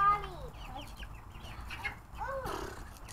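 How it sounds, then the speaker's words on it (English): Free-range chickens clucking close by, with a string of short rising clucks and squawks overlapping one another from several birds, continuing throughout. "this is exactly the definition of what to call a free range chicken"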